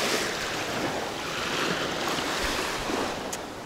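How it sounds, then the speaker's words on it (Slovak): Sea waves wash onto a beach at Railay, Thailand, a steady, loud broadband surf roar with gusts of wind buffeting the microphone throughout. "mňa tu ničia vlny"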